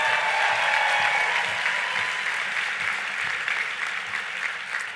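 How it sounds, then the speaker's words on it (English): A large keynote audience at a Netroots Nation political gathering applauds, producing a loud, dense wash of clapping that holds steady across the whole stretch and thins only slightly toward the end. "Let's give him a big round of applause."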